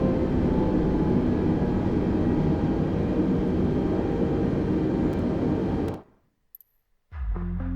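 An Airbus airliner in Microsoft Flight Simulator rolls out to a stop after landing at Rio de Janeiro. A loud, steady roar and rumble fills most of the stretch, then cuts abruptly to near silence before a short burst returns at the end.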